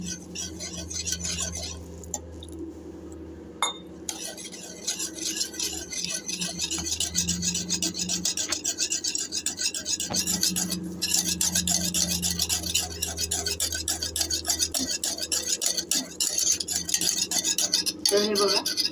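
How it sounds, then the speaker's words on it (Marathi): Gram flour (besan) batter being whisked with water in a bowl to break up lumps, giving a steady, close wet stirring with spoon clinks and scrapes against the vessel and a brief pause early on. "थोडं थोडं पाणी टाकून आपल्याला हे मिक्स करून घ्यायचं आहे"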